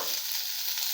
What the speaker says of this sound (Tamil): வெங்காயம் போட்டு நல்லா வணக்கலாங்க. இப்போ பச்சை மிளகாய் போட்டுக்கலாங்க.